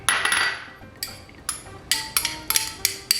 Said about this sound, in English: And we're just gonna combine these ingredients to one bowl